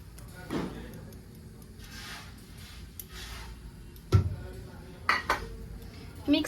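Spices being mixed in a cooking pan with a utensil: scattered metallic clinks and scrapes over a low background, growing into several sharper knocks toward the end.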